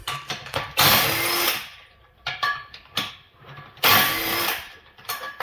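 An impact wrench fitted with a 17 mm socket spins bolts off a project car, giving several loud, short bursts of rattling whir separated by pauses, each burst close to the listener.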